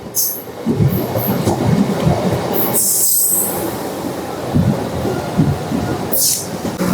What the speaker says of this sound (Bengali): আমাদের ট্রেন এখান থেকে ছেড়ে বেরোচ্ছে আমাদের অন্তিম স্টেশন আসানসোলের দিকে